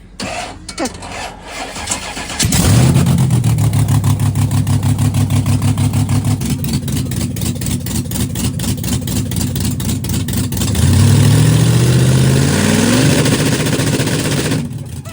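A Chevy Spark drag car engine revs hard against a two-step launch limiter, popping in a fast steady stutter, then surges louder again near the end, close and loud throughout.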